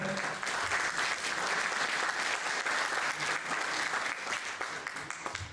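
Audience at a philosophy book presentation gives sustained applause, dense clapping of many hands filling the room at steady volume before tapering slightly near the end.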